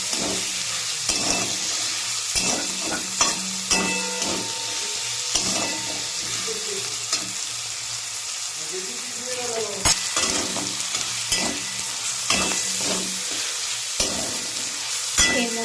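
Green banana pieces sizzle and fry in a wok while being stirred, with steady hissing behind repeated scraping clacks of a spatula against the metal, close and continuous.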